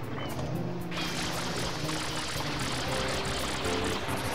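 In Super Mario Sunshine, the water pistol refills while submerged, a continuous rushing, pouring water sound that holds steady throughout under faint background music.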